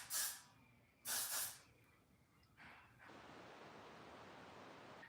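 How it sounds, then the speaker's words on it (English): Hair holding spray hisses from a can onto microlocs in a few short bursts, close and bright, followed by a longer, softer spray that lasts to the end. "I'm gonna spray a little bit just so."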